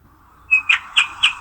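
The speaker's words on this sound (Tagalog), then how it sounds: "May birds din." Short bird chirp sound effect from a video editor's library plays alone: a whistled note followed by three quick tweets in a regular rhythm, clear and close with no talk.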